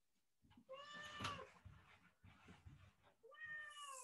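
A cat meows twice, clear, rising and falling calls near the start and end, fairly close, with soft background movement between them.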